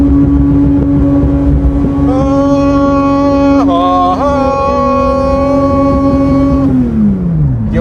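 A Porsche 991.2 GT3 RS flat-six runs loud and close with a strong, steady high-pitched engine note. Revs climb and dip briefly through shifts, then the note falls away as the car slows.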